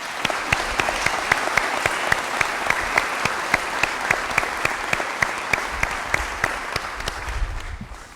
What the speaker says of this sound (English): Ladies and gentlemen, one more round of applause for the Jones family.